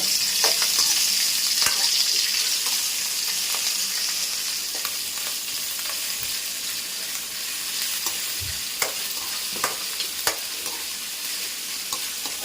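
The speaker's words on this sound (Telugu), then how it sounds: "వెల్లుల్లి పేస్ట్ అయితే మనం ఇప్పుడు వేసుకుందాం బాగా వేగింది అనమాట" Garlic paste frying in a pan for a liver fry, a steady, close sizzle running throughout with scattered crackles and occasional clicks of a stirring spoon, no voices.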